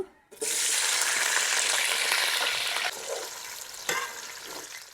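Onions dropped into hot oil for a Telugu tamarind fish curry, a sudden loud, steady sizzle that hisses continuously, easing slightly and stirred with a brief clink near the end, close up with no talking.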